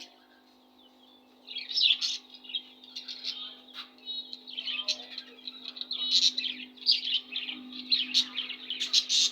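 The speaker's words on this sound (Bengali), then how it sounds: "বাজিগার পাখি, lovebird, cockatiel, Australian গুগু, diamond Duff" Busy budgerigars and cockatiels chirping and twittering in rapid, high bursts, several birds calling at once against a steady low hum.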